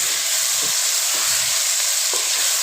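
Chicken stirred in a pan with garlic and ginger, a steady sizzling hiss with a few soft scraping strokes of the spoon, close and alone.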